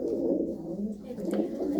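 Several pigeons in a loft coo steadily and close by, their low throaty rolling calls running together without pause.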